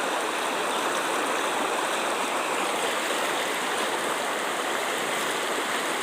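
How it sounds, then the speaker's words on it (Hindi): Floodwater rushes over a main road beside a swollen river. The flow is a loud, continuous roar of moving water with no voices. "तो मेन रास्ता के ऊपर में पानी जा रहा है"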